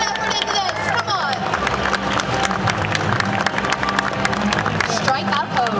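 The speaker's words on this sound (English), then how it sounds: "Give a big round of applause." An indoor audience at a comic con cosplay contest claps and cheers steadily and loudly, with crowd chatter and a host's voice mixed into the applause.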